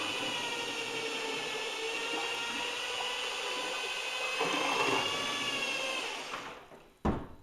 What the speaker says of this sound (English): so we mix the glaze in the bucket like that